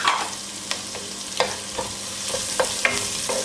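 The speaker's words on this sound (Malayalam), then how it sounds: "മീഡിയം ഫ്ലെയിമിൽ വെച്ച് ഈ സവാള ഒന്ന് കുക്ക് ചെയ്തെടുക്കാം" Onion sautéing over a medium flame in a pan for puttu upma, a steady hiss of frying punctuated by intermittent scrapes and taps of a stirring spoon, close and moderately loud, no voices.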